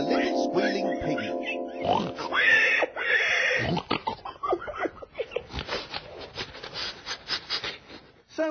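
A man imitates a pig with squealing, oinking vocal sounds in a hypnotism gag on a science comedy show, a few wavering squeals followed by choppy snorting grunts, close and loud.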